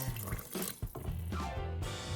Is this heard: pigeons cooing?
no